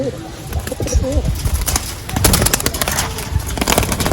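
Pigeons in a loft give soft, low cooing calls near the microphone, mixed with scattered bird noises and rustling.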